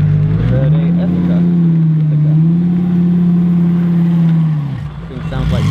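A Lamborghini Gallardo race car with an oversized RS wing revs hard, its engine note rising and holding loud and close for several seconds before dropping away.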